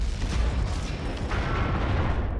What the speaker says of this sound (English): Cannon's a little bit beefier too.